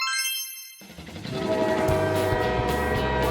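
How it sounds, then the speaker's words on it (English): Cartoon train sound effect as a glowing train appears in a Peppa Pig animation: a bright whistle-like tone gives way to a loud, steady rumbling chug with horn-like sustained notes, close and alone. "It lands and turns into a glowing train in their yard."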